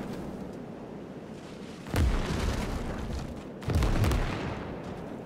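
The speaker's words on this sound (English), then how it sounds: "Some more artillery barrage." In the Gates of Hell Soviet campaign, an artillery barrage lands as two heavy booming impacts a couple of seconds apart over a steady roar of battle noise.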